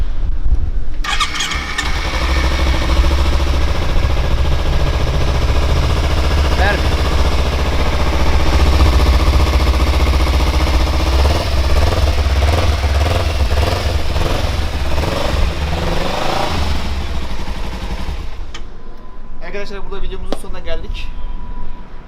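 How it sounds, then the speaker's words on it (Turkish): A Kawasaki Ninja 300 fresh from servicing cranks and fires up, then idles loudly and steadily up close for most of the stretch before shutting off, followed by a few clicks and brief voices. "Bir en son olarak motorumuzu çalıştıralım."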